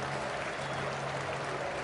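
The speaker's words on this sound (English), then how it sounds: "fans applauding the opposition" Football fans applauding the opposition side at a Nottingham Forest versus Yeovil Town match, a dense steady wash of clapping from a large crowd that continues evenly throughout.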